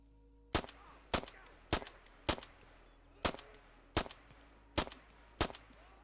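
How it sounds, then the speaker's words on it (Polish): Gunfire in the military shooter Arma 3, with eight sharp, loud single shots spaced roughly half a second to a second apart over a low background hum. "Ile on może przeżyć, no, taki strzał."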